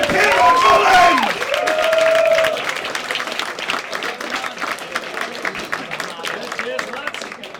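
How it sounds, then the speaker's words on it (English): A comedy club audience bursts into loud applause and cheers, strongest at the start then easing into a steadier, thinner clatter of clapping, with a voice calling out briefly over it. "1, 2, 3, start the clap, mate!"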